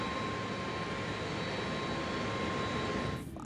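An American Airlines jet airliner rolls for takeoff, its engines giving a steady, loud broadband roar with a faint whine, sustained throughout and dropping away abruptly at the end, no voices present.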